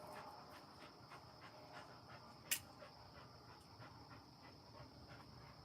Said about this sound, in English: Buster, he's over here panting.